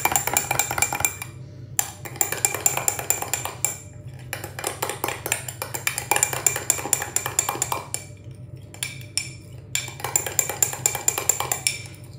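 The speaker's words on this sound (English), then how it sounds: "give it a stir to cream it round" Metal spoon clinking and scraping against a glass or mug while stirring cream into coffee for a mock White Russian, a steady run of close, repeated clinks broken by a few short pauses.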